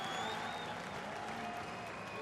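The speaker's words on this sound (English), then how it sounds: "the Irish crowd cheering on Conor Shanahan" A crowd applauds and cheers at a drift competition in Ireland, a dense, continuous wash of clapping and noise that holds steady for a couple of seconds.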